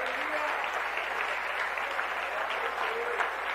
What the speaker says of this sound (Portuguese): essas palmas é o som do teu louvor